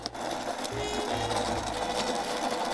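Dirty, slightly rusty bearings spin in a continuous close-up whir with a gritty, rough rolling texture, steady in level throughout with no talk over it.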